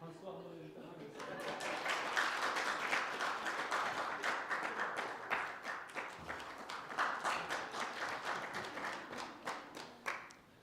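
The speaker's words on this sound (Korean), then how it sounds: "박수 한번 일단 하겠습니다." An audience claps steadily at a church gathering, a dense, sustained round of applause that swells quickly and holds for several seconds before tapering, with voices faintly mixed in.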